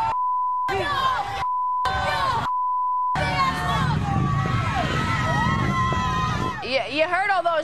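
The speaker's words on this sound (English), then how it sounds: "We had to keep bleeping out what they were saying." Repeated steady censor bleep tones, three short bursts, cut over the shouting of protesting kids demonstrating against Trump, followed by loud crowd noise with chanting and yelling voices.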